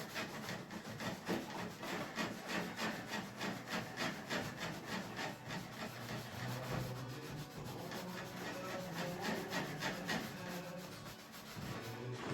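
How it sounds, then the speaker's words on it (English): Hand sanding of varnish off a wooden surface during a Mini-Max 1030R build, a steady rhythmic back-and-forth scratching repeated over a dozen seconds, close and alone without talk. "First thing I'm gonna do is sand a little bit of this varnish off"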